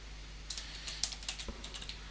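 Fingers typing an iptables command on a computer keyboard, heard as a quick irregular run of close, light key clicks over a low steady hum.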